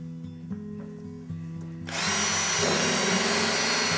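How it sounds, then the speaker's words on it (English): A power drill fitted with a flush mount bit bores a hole in wood veneer, starting abruptly after a few quiet handling knocks and then running as a loud, steady whirring grind close by. "So let's go ahead and drill a hole there"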